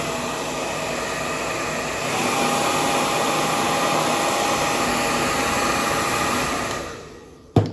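A handheld hair dryer blows hot air onto fabric in a steady, loud whooshing roar, alone for about seven seconds before it shuts off abruptly.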